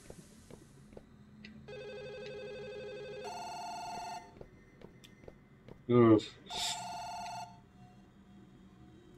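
A telephone rings in the next room in the video game Firework, heard as electronic ringtone bursts after a quiet stretch, with a sharper louder ring near the end and a short vocal grunt.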